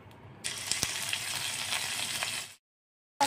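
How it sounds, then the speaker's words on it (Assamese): Fish fat melts and spatters in a pan of hot mustard oil for a fish curry, giving a close, crackling sizzle that bursts in suddenly, holds for about two seconds, then stops dead, followed by silence and a brief noise. "মাছৰ তেলখিনি দিয়াৰ লগে লগে গলি গৈ আছে আৰু কেনেদৰে চিটিও আছে"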